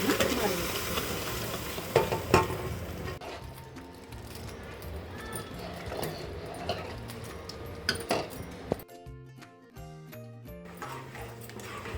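Cooked dal being mashed coarsely with a spoon in a pressure cooker pot for Telangana-style pappu charu, a steady scraping and stirring texture with occasional clinks, close and moderately loud, with no talk.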